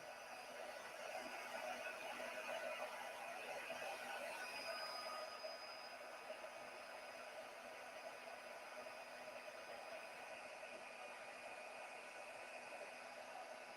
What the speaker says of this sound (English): now when I emboss, I like to heat from behind. So and we're on the number 2 heat setting